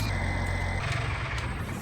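A truck engine idles steadily in Farming Simulator 19, a constant low rumble with a faint high whine layered on top, close and unbroken.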